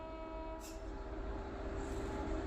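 Khajuraho Udaipur City Express rumbling toward a station, a steady loud mechanical rail drone with a faint high whistle-like tone near the start.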